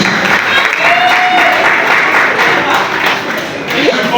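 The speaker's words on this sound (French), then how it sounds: "Un tonnerre d'applaudissements pour Papa Serge." Loud, sustained applause from an awards-ceremony audience honoring Papa Serge, a dense wash of clapping lasting the whole stretch with a few voices mixed in.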